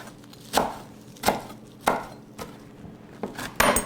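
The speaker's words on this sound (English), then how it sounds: "I've just torn the leaves off the stems and going to roughly chop them" A knife roughly chops fresh garden basil leaves on a board, with six or so sharp, evenly spaced chops under a quiet background and no talk.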